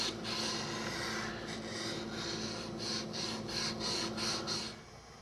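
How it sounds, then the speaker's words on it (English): Steady abrasive sanding of stone during low relief stone carving, a continuous gritty rasp with brief rhythmic strokes toward the end, close and moderately loud, with no voices. "Even when I'm sanding the stone,"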